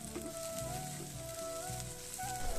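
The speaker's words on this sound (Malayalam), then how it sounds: "ഇടയ്ക്ക് വന്ന് വെണ്ടയ്ക്ക ഇളക്കി കൊടുക്കുന്നുണ്ട്" Okra sizzles steadily as it fries in a pan, with soft scrapes and clinks of stirring under the hiss, no one speaking.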